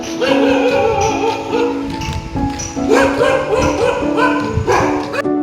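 Several dogs bark and yip together in overlapping bursts, fairly loud and close, continuing throughout.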